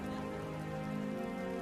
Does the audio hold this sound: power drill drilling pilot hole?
no